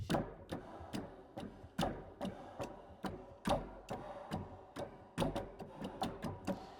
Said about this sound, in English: can almost use it like a clock, like a ticking